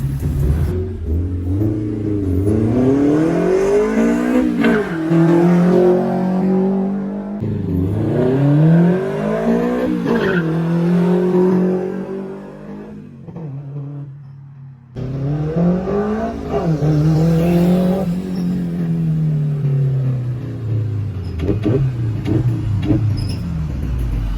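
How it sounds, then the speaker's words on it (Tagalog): A Toyota 4AGE engine swapped into a Tamiya OTJ car is revved hard several times, each rev rising to a screaming peak and falling back, loud and close with a short lull midway. "tinesting ko lang siyang biritin ng konti, pero guys sobrang lakas talaga nitong 4AG na to"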